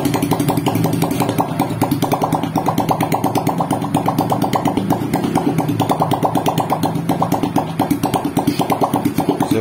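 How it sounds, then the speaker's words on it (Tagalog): A Honda XRM125 motorcycle engine runs with no exhaust pipe fitted, a loud, rapid, steady rattling putter with sharp repeated firing pulses throughout, close up and alone. "pandarin muna natin walang tambutso, no? Medyo maingay"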